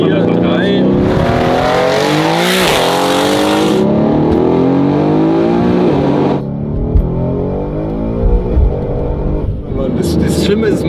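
A 1300 PS Mercedes W205 C63 with 4Matic+, tuned by GAD-Motors, accelerates hard with a loud, roaring engine note rising through the revs, then drops to a lower rumble, heard from inside the car with people talking.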